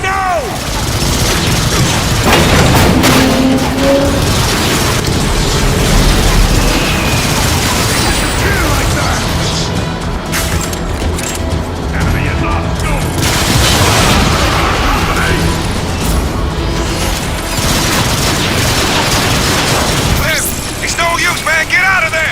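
Rocket explosions rumble in Transformers: Fall of Cybertron, loud booms and blasts piling up in a dense continuous battle mix, with character voices and game music over the top.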